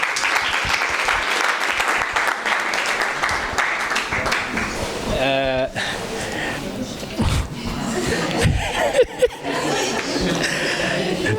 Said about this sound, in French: Pouvez-vous applaudir pour elle, s'il vous plaît?